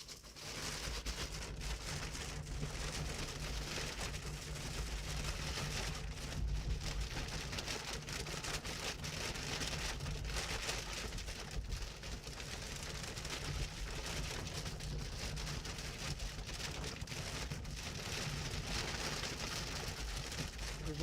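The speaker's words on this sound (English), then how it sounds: "The rain sort of blocking it off, unfortunately." Heavy rain during a storm in Iowa, a steady dense broadband hiss that runs unbroken and fairly loud for the whole stretch, with no voices over it.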